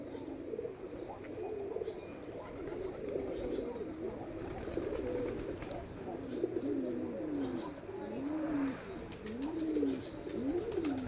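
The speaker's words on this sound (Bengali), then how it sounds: "এই কবুতরটা কিন্তু একটা ভিন্ন জাতের কবুতর" Village pigeons, one a short-beaked breed, coo repeatedly in soft, rolling phrases, with a few faint chirps and low background noise; no one speaks.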